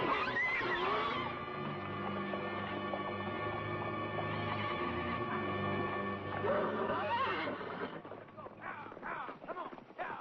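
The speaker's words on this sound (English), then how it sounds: "These horses are the property of General Castro." Horses being run out of a corral whinny and neigh amid a busy, continuous din, with voices and hoofbeat-like clatter toward the end.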